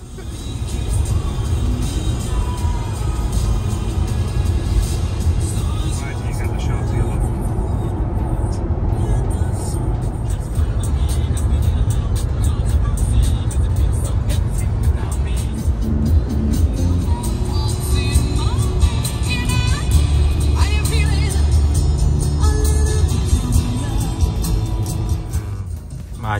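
Traffic jam on a road in Wales, heard as a steady, loud, low rumble of cars from inside a vehicle, continuous throughout with faint voices underneath.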